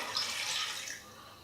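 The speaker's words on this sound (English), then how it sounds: "And then finally we top up that whole thing with just some water." Filtered water poured from a tap into a stew pot full of bones, a steady close rushing hiss with no voices, easing off slightly toward the end.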